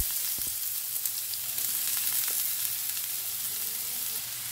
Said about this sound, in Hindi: प्याज को ना हमें फ्राई कर लेना है 2 से 3 मिनट के लिए